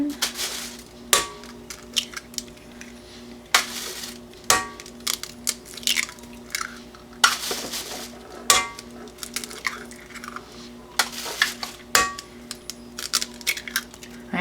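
Five eggs cracked one after another into the bowl of a Magic Mill pressure cooker, giving sharp close taps and clinks against the bowl at irregular intervals over a faint steady hum.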